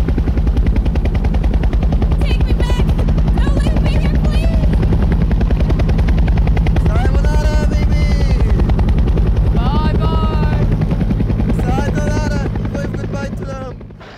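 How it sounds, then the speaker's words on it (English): A helicopter being parked, its rotor chopping loud and close in a continuous fast beat that fades at the end, with voices calling over it. "Quickly, I still have to park this helicopter."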